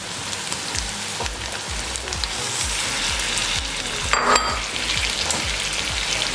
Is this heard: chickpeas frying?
yes